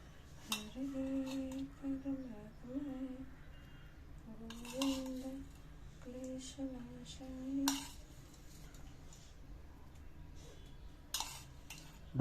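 Metal utensils clink and scrape as hot tempering is spooned over freshly steamed dhokla in a home kitchen, a few sharp taps and stirring sounds spaced apart, with a faint tonal hum in the background.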